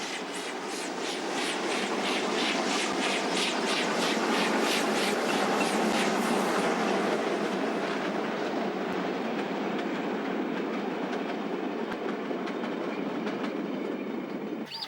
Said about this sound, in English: The train now passes over one of the many fine viaducts on this well-engineered railway.